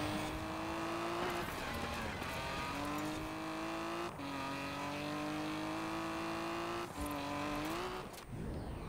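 A 1969 Toyota 2000GT in Forza Horizon 4 revs hard through several gear shifts, the engine climbing in pitch, dropping at each change and climbing again, loud and continuous with no voice over it.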